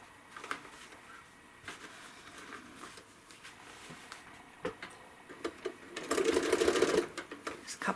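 A sewing machine stitching a quilt, laying a few short tack stitches over earlier stitching; quiet ticking and clicks lead into a brief fast burst of needle chatter near the end.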